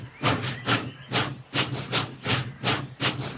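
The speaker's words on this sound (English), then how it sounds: "James puffed away as quickly and quietly as he could." A cartoon steam engine puffs steadily, with regular chuffs of hissing steam repeating roughly every half second at moderate volume and no voices over it.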